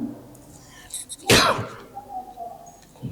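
A single loud sneeze bursts from someone in a mosque congregation during a Quranic exegesis lecture, sharp and close, set against a faint murmuring room.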